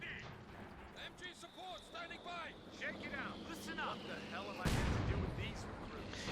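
Artillery fire in the Company of Heroes 2 strategy game, a heavy boom bursting out near the end amid battle effects and engine rumble, with a commentator talking over it throughout.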